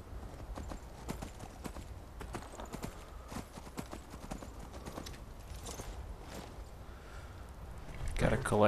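Horse hooves clip-clop in the video game Skyrim, a steady fast rhythm of soft thuds throughout, with a louder burst of movement near the end.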